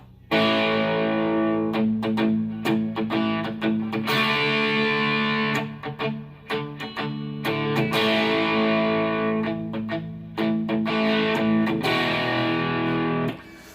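A heavily distorted electric guitar plays thick, sustained chords and riffs, loud and close, with brief pauses between phrases and no voices.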